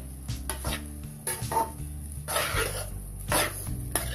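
Vegetable fried rice being stirred and fried in a pan, with repeated scraping and clattering strokes of a spatula over a soft, steady sizzle, close up and fairly quiet.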